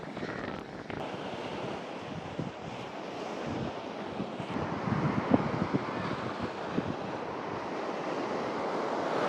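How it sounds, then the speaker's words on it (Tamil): Sea waves rolling onto a beach in Sri Lanka in the late afternoon, a continuous washing surf with gentle swells and some wind buffeting the microphone, heard alone. "இந்த கடல் அலையோட பின்னேரம் 5 மணிக்கு எப்படி இருக்குன்னு பாருங்க"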